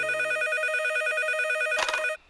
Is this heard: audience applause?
no